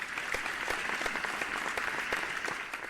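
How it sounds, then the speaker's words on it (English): Students at a Math Bee grand finals in Telangana give a round of applause, a dense, steady wash of crowd clapping filling the short stretch at moderate loudness. "So please give yourselves a big round of applause."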